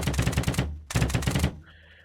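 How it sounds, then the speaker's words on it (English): Simulated airsoft gun in a VR tactical training simulator fires two rapid full-auto bursts of sharp, evenly spaced shots, close and loud, separated by a brief pause, then a faint mechanical whir. "Now I can fire full auto."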